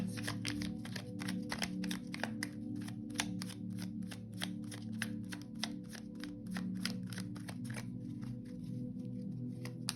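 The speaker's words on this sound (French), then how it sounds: "Je vais prendre 3 cartes." Tarot-style cards for a card reading are shuffled by hand in a quiet room, giving a steady stream of rapid crisp riffling flicks and snaps throughout, close and clear.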